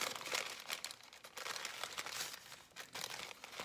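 A round paper coffee filter is folded by hand with soft, papery crinkles and rustles in quick irregular bursts, close and quiet.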